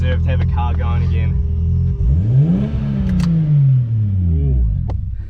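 A tuned RB25DET engine in an R34 Skyline revs hard, pitch sweeping up then falling back in a loud roaring arc, with a throaty idle rumble before and faint voices early on.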